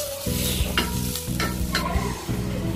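Stir-frying in a pan for a bachelor-style dish, with a steady loud sizzle and repeated scraping stirs of a utensil against the metal across the whole stretch.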